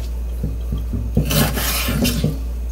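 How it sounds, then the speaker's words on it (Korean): A knife cuts chicken gizzards on a cutting board, giving a string of short scraping, rasping strokes that thicken into louder grinding cuts midway, close and alone. "가운데 한번 자르고, 여기 이렇게 한번 자르고"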